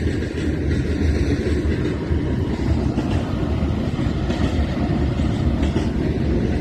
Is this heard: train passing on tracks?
yes